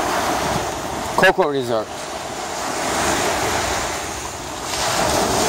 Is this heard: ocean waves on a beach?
yes